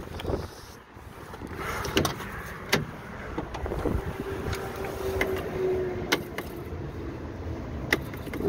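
Strong crosswind gusts buffet a vehicle while a truck is being towed, roaring as broadband wind noise against the microphone. Sharp knocks and rattles of loose panels break through the gusts, with no speech.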